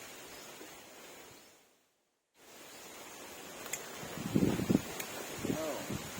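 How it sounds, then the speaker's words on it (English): Strong outdoor wind rushes steadily in a garden in the Philippines, broken by a short dropout, with faint voices murmuring underneath. "the wind is a little bit strong here"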